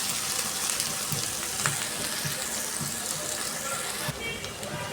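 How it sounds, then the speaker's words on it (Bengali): Chopped onion frying in hot oil in a pan, a steady close sizzle and crackle running throughout with occasional stirring scrapes and no talk. "পেঁয়াজ হালকা ভাজা হয়ে গেছে"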